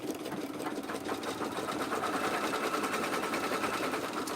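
A sewing machine stitches an inhaler holder with a fast, even mechanical whir and rapid rhythmic needle clatter, steady and close for the whole stretch, no talking.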